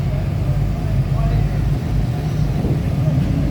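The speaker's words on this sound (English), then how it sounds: "Can you hear these cars coming in?" Cars roll into the lot at Joe's Diner, a loud, close, continuous low engine rumble that holds steady throughout.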